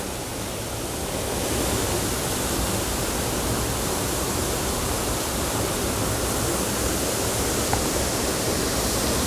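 A waterfall gushes down into Black Rock Gorge, a steady broadband roar of falling water that swells slightly after the first second and holds loud and unbroken, with no voices.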